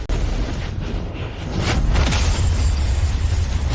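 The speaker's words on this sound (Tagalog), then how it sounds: "Biglang sumabog ang sasakyan at ang young master po ay hindi na nakalabas." A car blowing up, a dense roaring blast that swells and sustains as a heavy rumble, loud and close throughout with no voices.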